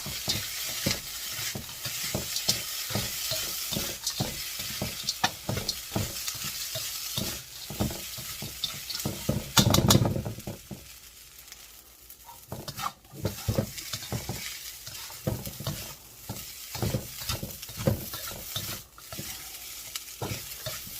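Frozen peas and spam are stir-fried into Singapore fried rice in a hot pan, with close, loud sizzling and repeated scraping strokes of the spatula. One heavier clatter comes near the middle.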